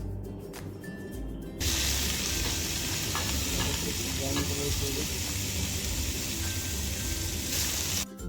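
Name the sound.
chopped garlic and prawns frying in hot oil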